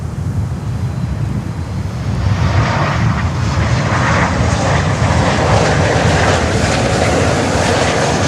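American Airlines Boeing 737 jet arriving at Miami airport, a loud broadband engine roar building after a couple of seconds and holding steady, with wind buffeting the microphone.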